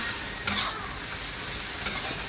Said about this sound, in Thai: หลังจากใส่วัตถุดิบเข้าไปเสร็จแล้วนะคะ เราก็ผัดให้เข้ากันนะคะ